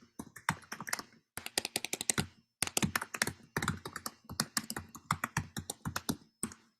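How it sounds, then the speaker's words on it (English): Brisk typing on a computer keyboard, close and clear, with quick bursts of key clicks separated by brief pauses while an email address is entered. "let me type my email here"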